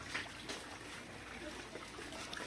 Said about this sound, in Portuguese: Aqui tem um pequeno chuveirão aqui